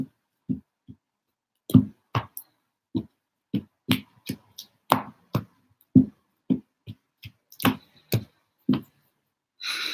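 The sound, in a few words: shuffling tarot cards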